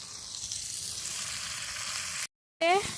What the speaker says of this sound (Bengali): আলু কষা হচ্ছে, এখন ডিম দিয়ে রান্না হবে, তাই আলু কষছি।